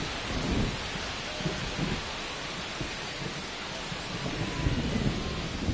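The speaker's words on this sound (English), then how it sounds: "This rain is not letting up." Rain and thunder at a ballpark in the baseball video game The Show 25: a steady, heavy downpour hisses throughout while low thunder rumbles roll in and swell at intervals, with no voices.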